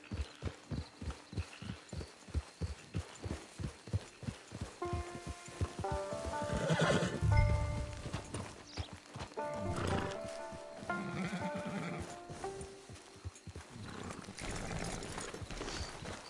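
A horse whinnies loudly in the middle of a steady clip-clop of hooves in Red Dead Online, with a second neigh later, set against a game-like ambient backdrop.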